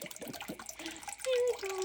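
A small water fountain set up for a pet parrot, a soft trickling splash running steadily while a person talks over it.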